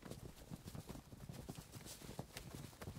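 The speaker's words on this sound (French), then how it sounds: "Le roi et Aucassin chevauchèrent tant qu'ils arrivèrent où la reine était." Horse hooves clip-clop in a fast, steady rhythm as riders travel on horseback, a quiet and continuous stream of hoof beats with no voices.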